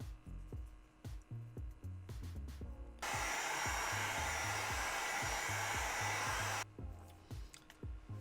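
A heat gun blows a loud, steady airy roar for several seconds while warming foam armor, set between stretches of a thumping rhythmic background beat that continues throughout.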